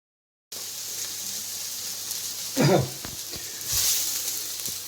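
Chopped onion sizzles steadily in a hot pan for veal goulash, a constant close hiss with a brief louder crackle midway and another swell near the end.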